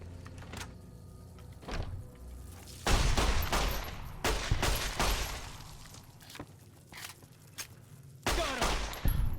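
Pistol shots in Fallout New Vegas, a series of sharp, loud cracks spaced irregularly over several seconds, some in quick pairs, with faint game ambience between them.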